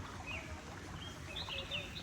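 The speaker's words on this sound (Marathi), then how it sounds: "दोन्ही साईडला पाणी आणि पक्ष्यांचा आवाज" Faint, high chirps from a few birds come and go beside water in the Konkan countryside, distant and sparse over a soft outdoor background, with no one speaking.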